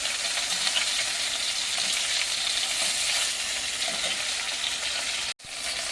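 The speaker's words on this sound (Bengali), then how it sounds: "এই মাছটা লাল লাল করে ভেজে নিচ্ছি।" Fish fries in a pan of oil with a steady, dense crackling sizzle, close and even throughout, broken by a brief gap near the end.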